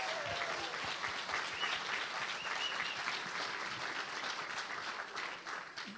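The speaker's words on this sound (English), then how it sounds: "how about a round of applause for Jay Green" Steady audience applause fills a hall during a live education-policy event, a dense wash of clapping that holds level for several seconds before easing slightly at the end, with no speech over it.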